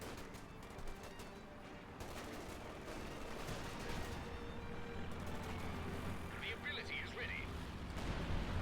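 Air support strikes in Company of Heroes 2 thud and rumble as a dense stream of gunfire and artillery-like blasts, mixed with ongoing battle noise and engine drone, while a commentator talks over the action.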